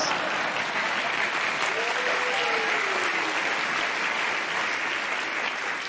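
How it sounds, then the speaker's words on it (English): A studio audience on Bill Maher's show claps steadily and enthusiastically, a continuous roar of applause with a faint voice drifting through partway. "Stop clapping!"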